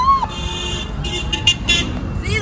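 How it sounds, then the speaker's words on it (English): Car horns honk from a nearby graduating bus amid road traffic, several short toots and blasts overlapping over a steady hum of vehicles. "they're all honking"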